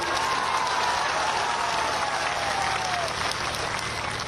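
Crowd at a political rally in Balurghat, West Bengal clapping in sustained, dense applause that holds steady for several seconds, with a voice faintly audible over it.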